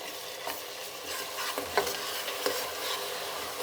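Ginger garlic paste is stirred in a hot frying pan. It gives a steady close sizzle with scraping strokes of the spoon and a few sharp clinks against the pan.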